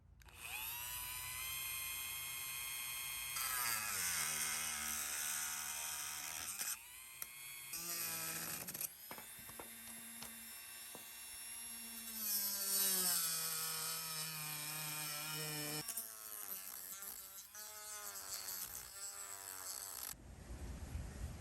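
A handheld power tool whines and grinds as it cuts away plastic bars from a snowman decoration under repair, its pitch rising and falling in close, loud bursts with short pauses between cuts.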